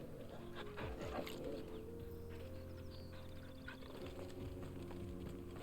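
A dog in the video game Final Fantasy XVI, with short whimpering and panting sounds and quick yelps over a layered game soundscape of low tones and music, moderately close, no speech.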